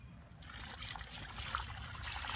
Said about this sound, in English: just gonna pour this water in here